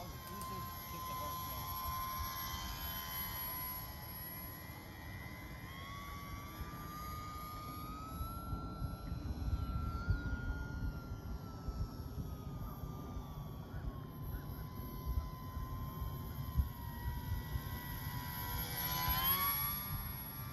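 An RC trainer model airplane flies overhead with a continuous whining electric motor drone that rises and falls in pitch as it passes, over steady outdoor wind noise.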